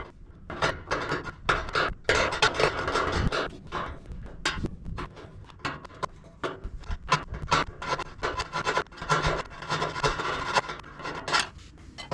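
A hand file rasps back and forth over a metal barbecue part, giving close, loud, rhythmic scraping strokes in quick bursts with brief pauses between them.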